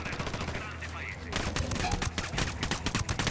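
Rapid automatic gunfire crackles in dense bursts during a firefight in the video game Tom Clancy's Ghost Recon, loud and continuous over game ambience and a faint voice.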